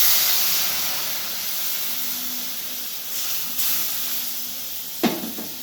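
Water poured into semolina frying in ghee hisses and sizzles in a steady spray of steam, with a sharp burst of crackling spitting near the end.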